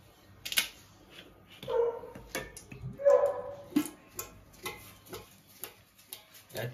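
A group of around twenty dogs, including a Labrador, barking at a birthday gathering: scattered sharp barks and yelps at varying distances, with clicking and tapping sounds between them.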